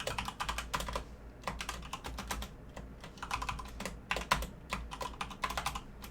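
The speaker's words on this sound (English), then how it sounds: "while I'm sitting here typing this up" A computer keyboard clatters during an engineering lecture, with rapid bursts of keystrokes broken by short pauses. The typing is close and moderately quiet, and no voice is heard.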